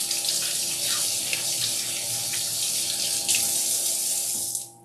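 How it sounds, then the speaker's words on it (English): A kitchen faucet runs steadily for about five seconds as hands are rinsed while making guacamole, a close, continuous hiss of splashing water that cuts off at the end. "I'm just going to quickly rinse my hands."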